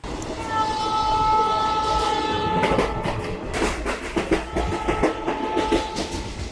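A train horn sounds loudly for a few seconds while the train rumbles along, then steady rhythmic clacking of wheels over rail joints.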